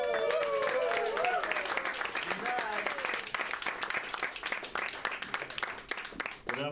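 Warm applause from an audience at a jazz performance, steady dense clapping that carries through the whole stretch, with a voice speaking over it near the start.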